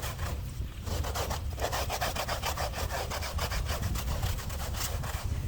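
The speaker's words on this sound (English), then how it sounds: "can definitely stand up to all this work I'm putting in with this push broom" Rhythmic back-and-forth scrubbing of a stiff-bristled push broom against a rug being cleaned, steady and close, with repeated strokes continuing throughout.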